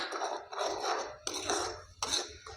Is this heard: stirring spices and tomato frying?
yes